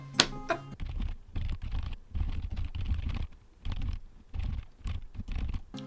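Rapid, uneven tapping of fingers typing a long message, a close and continuous patter of soft key clicks with short pauses, no talking.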